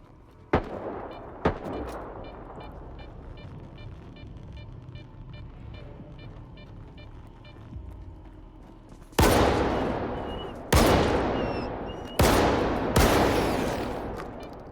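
Gunshots from the STALKER 2 shooter game fired at mutants: two sharp cracks early on, then a steady mechanical hum, then four loud, booming shots with long tails spaced over the last few seconds.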